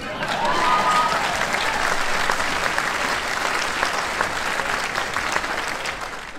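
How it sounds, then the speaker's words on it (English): A large crowd at a Coach Prime speaking event in Austin breaks into sustained applause, a loud, even roar of clapping with scattered cheers that holds steady and tapers slightly at the end. "Now right there, you're supposed to clap."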